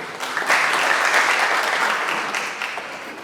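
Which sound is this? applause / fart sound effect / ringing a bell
applause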